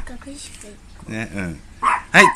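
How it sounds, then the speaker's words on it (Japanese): A dog barks a couple of times in the background, sharp and moderately loud, while people talk in Japanese nearby. "ちょっと犬がうるさいですね。"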